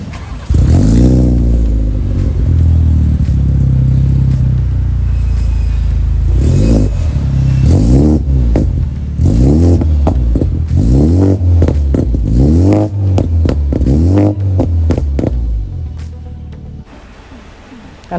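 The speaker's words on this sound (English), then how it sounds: "you guys are obviously going to listen to the car's exhaust." A Pandem-kitted Toyota A90 Supra MK5 runs its exhaust loud and close, a deep idle rising into a string of sharp, repeated revs with crackling falloffs between them.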